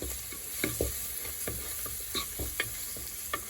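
A spoon stirs vegan black-eyed peas in a pot with pepper seasoning, with a steady background hiss and repeated soft scraping knocks spaced about half a second apart.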